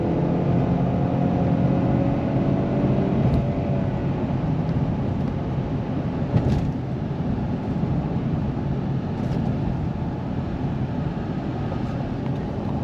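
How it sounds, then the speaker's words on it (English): A 2015 Ford Fusion with the 2.0 EcoBoost engine is driven at wide open throttle, giving a steady, loud engine and road roar with rising harmonic tones that carries on without pause and without talk. "At least we'll go like a wide open throttle situation."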